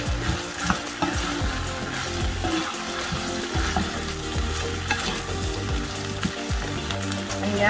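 Onions sizzle and fry loudly in hot curry paste in a pan for a boneless chicken thigh curry, a steady crackling hiss with stirring scrapes throughout, close up and with no talk.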